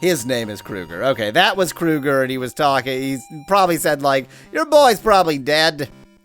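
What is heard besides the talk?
No everyday noises stand out.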